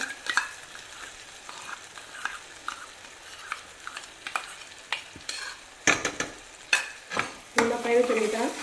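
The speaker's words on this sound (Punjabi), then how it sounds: "ਮਲਾਈ ਪਾ ਕੇ ਤੁਸੀਂ ਤੜਕਾ ਲਗਾਓ ਬਹੁਤ ਵਧੀਆ ਸਬਜ਼ੀ ਬਣਦੀ ਲੋ ਜੀ ਹੁਣ ਆਪਾਂ ਮਲਾਈ ਪਾ ਲੈਣਾ" Malai added to an aloo matar tadka over low heat: a soft sizzle runs under a string of quick spatula scrapes and taps, which grow denser and louder toward the end, heard close with no speech.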